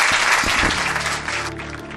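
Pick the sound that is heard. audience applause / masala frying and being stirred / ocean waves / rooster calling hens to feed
audience applause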